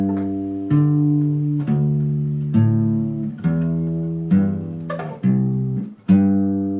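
Bass guitar plays a root-and-third passage with a gentle swing on beats one and three, a steady, fairly loud series of deep sustained notes in a lesson setting, alone without speech.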